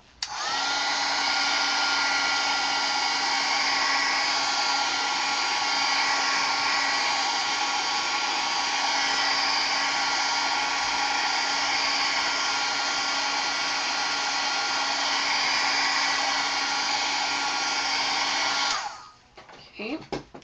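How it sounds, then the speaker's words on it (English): A hair dryer blows over wet paint and gesso on a mixed media canvas, a loud steady whooshing hum running nearly twenty seconds before switching off. "I'm going to dry this a little bit because I don't want the two colors blending."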